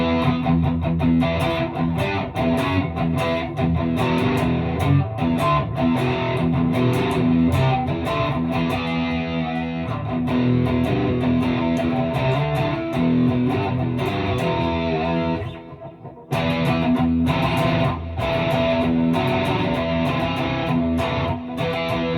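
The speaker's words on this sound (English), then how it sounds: "crunchy distortion, high gain setting" Crunchy high-gain distorted electric guitar plays through a Spark 40 amp, loud dense chugging riffs and sustained chords with a brief drop near the middle before the playing resumes.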